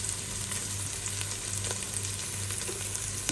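Garlic sizzling steadily in hot oil in a pan, a close, continuous frying crackle for pancit bihon guisado with no talk.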